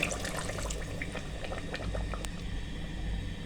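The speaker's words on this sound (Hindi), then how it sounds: "हम तकरीबन 1 गिलास पानी शामिल करेंगे।" About a glass of water poured into a chicken and potato curry in the pot, a soft, close splashing and bubbling that carries on for a few seconds with faint clinks, no voices over it.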